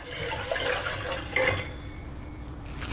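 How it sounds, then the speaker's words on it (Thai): Yanang leaf juice pouring steadily into a pot nearby, a continuous splashing gurgle that changes pitch slightly as the vessel fills. "ใส่น้ำยะนางลงไปในหม้อจ้ะ"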